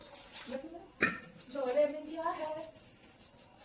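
Food being rinsed by hand in two or three changes of water in a home kitchen, with splashing and sloshing that go on while someone talks over it.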